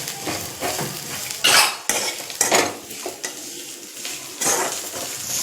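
Ginger, garlic, cumin and sesame sautéed in a pan: a spoon scrapes and stirs repeatedly against the metal over a soft sizzle, in uneven close strokes with no talk.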